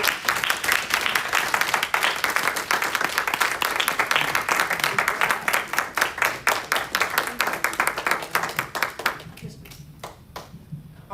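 An audience applauds a speaker after a motivational talk, loud brisk clapping from many hands that holds strong, then thins out and fades toward the end as a voice begins.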